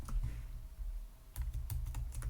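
Quiet clicking of a computer keyboard as an address is typed, with irregular bursts of keystrokes and short pauses, nearby and without speech.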